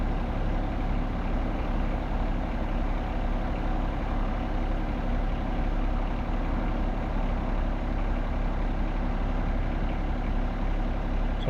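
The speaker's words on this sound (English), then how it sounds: "So I'm just off the side of the driveway with the truck." A pickup truck idles just off the side of a snowy driveway, its engine a steady, close, low rumble that holds unchanged throughout with no talk.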